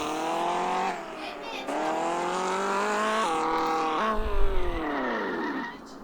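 A modified Tofaş Şahin drifts in a video game. Its engine whines up and down in repeated revving sweeps alongside a steady tire squeal, with a brief low thump partway through.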